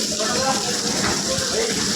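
Steady, dense rain hiss fills the scene of a monsoon downpour halting an outdoor film shoot, with faint voices murmuring underneath.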